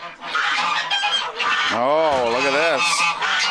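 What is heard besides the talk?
Muscovy ducks and other farm birds calling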